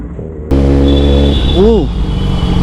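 A big car rumbles past on a busy market street, its low engine drone steady and close. A brief rising-and-falling whine cuts through midway, and faint voices may sit underneath.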